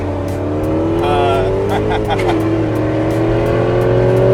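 A loud 1995 Dodge Viper engine drones and revs nearby, its pitch rising and falling, with tire squeal mixed in and people talking over it.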